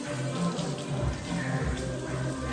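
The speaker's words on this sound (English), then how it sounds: "You want to give it a good wash." Running tap water pours steadily over whitening fish being washed in a sink, a constant close splashing rush with slight surges as the fish is moved under the stream.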